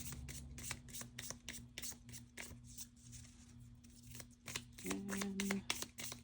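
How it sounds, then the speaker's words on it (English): Tarot cards are shuffled by hand up close, a quick series of soft riffling flicks and slaps in an uneven rhythm, with no voices. "So we'll do a couple more shuffles."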